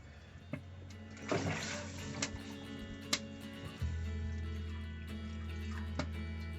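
Water being poured to top up the water pan of a brisket smoker, a short splashing pour followed by drips and a low steady hum from the smoker, with light clicks and clunks nearby.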